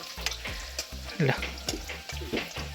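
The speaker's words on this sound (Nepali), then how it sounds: "तेल खरिन थालिसक्यो मासु पस्यो अब कराईमा लोकल लोकल मासु" Local chicken meat fries in hot oil in a wok, a close sizzle broken by rhythmic stirring scrapes and clanks over a low steady hum.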